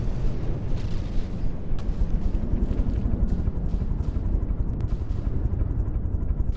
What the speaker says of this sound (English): this is actually quite a powerful bomb when it drops it